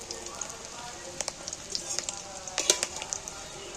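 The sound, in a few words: fish egg fritters frying and being flipped in oil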